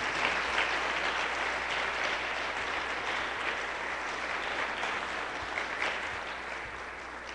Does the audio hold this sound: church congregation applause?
yes